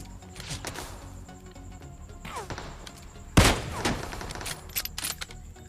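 A Kar98K bolt-action rifle fires once in PUBG Mobile, a single sharp, loud crack standing out midway. Quieter game thumps and clatter come before it and a few smaller impacts follow.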